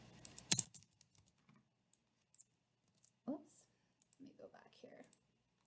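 A few sharp computer keyboard keystrokes, with a loud burst of key presses near the start and scattered softer clicks after, ending in brief soft vocal sounds nearby.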